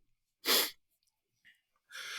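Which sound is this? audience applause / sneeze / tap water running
sneeze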